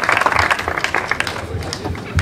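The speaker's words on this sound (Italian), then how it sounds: "io chiedo sempre poi un applauso per Renato" Brief burst of clapping from a small crowd at an award ceremony after a slalom car race, dense and close for about two seconds.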